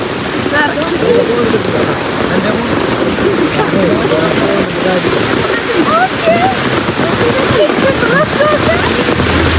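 Steady rain falls throughout, a dense continuous patter with scattered drips, while voices talk and sing over it.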